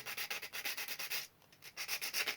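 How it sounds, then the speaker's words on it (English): Rhythmic back-and-forth sanding strokes with 240-grit paper roughing up the underside of a model locomotive body, steady close rasping strokes with a brief pause midway before resuming. "Rough up the underside with 240"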